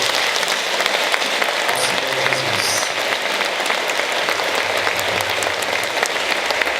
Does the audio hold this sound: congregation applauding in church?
yes